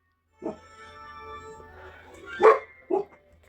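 A few sharp dog barks, the loudest near the end, over a quiet room with a low steady hum.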